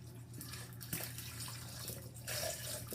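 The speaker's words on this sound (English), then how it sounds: "Then we're gonna put the coconut water." About 11 ounces of coconut water pours into a blender in a continuous splashing stream, close and moderately loud, with no voices.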